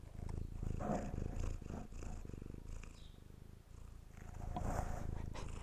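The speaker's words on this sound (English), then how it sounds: "do some purring" A cat purrs steadily up close, the low rumbling rising and falling in a continuous rhythm with each breath.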